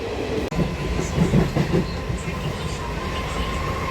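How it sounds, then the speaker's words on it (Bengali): A passenger train at a foggy railway station rumbles close by with rhythmic clickety-clack of wheels over rails, a steady loud rolling noise for the whole stretch. "এই যে আমরা সবাই ট্রেনে উঠে পড়েছি।"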